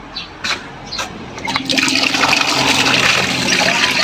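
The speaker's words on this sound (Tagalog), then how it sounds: "Lagyan mo natin ng tubig sa gripo." Tap water is poured into the cooling system of an overheating Ford Everest, starting with a few splashes and then becoming a loud, steady rushing gush close by.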